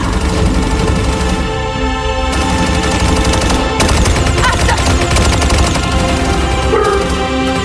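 Heavy gunfire rattles in a ZeroSpace battle as dense, loud, sustained bursts of automatic fire with sharp cracks, continuing almost without pause throughout.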